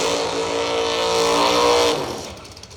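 A Corvette Roadster drag racing car at full throttle: a loud, rising engine roar with a strong tonal whine that holds briefly, then cuts off and fades as the car pulls away.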